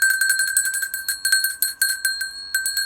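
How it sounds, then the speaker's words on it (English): A bell is struck repeatedly in quick succession, each bright metallic ring starting sharply and cut short before the next, loud and close with no talking. "let's ring the bell on that"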